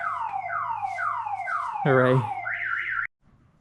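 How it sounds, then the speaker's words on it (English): A car alarm on an early-morning street in Cusco, Peru, set off by a loud car driving past. Its tones sweep downward again and again, shift into a pulsing blare and a warbling pattern, then cut off abruptly. A voice speaks briefly. "A loud car drove by him. Set off the alarm of another car."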